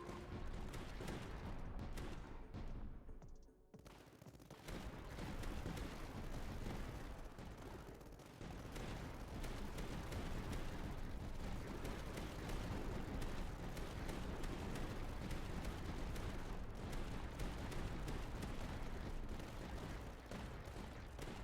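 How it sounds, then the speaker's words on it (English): Pulse cannons fire during a battle in the Tower Dominion strategy game, a dense, continuous barrage of booming shots and blasts with a brief dip in the middle. "the first thing we do is to get our pulse cannons involved in the battle"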